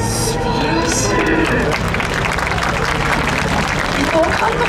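An audience applauds at a SUPER GT motorsport team directors' talk show at Fuji, with a sustained spatter of clapping from a crowd and voices talking over it.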